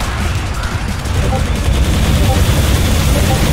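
Gunfire in Alien Swarm Reactive Drop, a shotgun blast among a dense, continuous barrage of weapon fire and explosions, loud and steady throughout with game noise.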